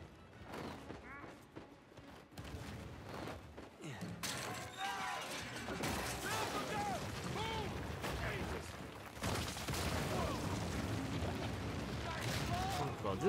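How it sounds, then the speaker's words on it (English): Scattered gunfire and impacts in Uncharted 4 crackle through an action scene as enemies shoot at the player, dense and chaotic with mechanical clatter, while someone talks over it. "who the fuck is shooting at me?"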